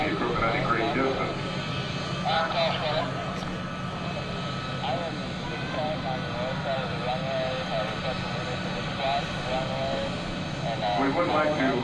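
Steady droning aircraft engine noise fills the background while people talk over it, a constant roar throughout, at an air show.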